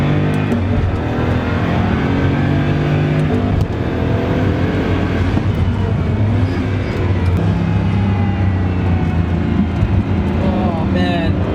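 Pagani Huayra BC supercar heard from the passenger seat, its engine a loud, steady drone with shifting pitch while people talk throughout the ride.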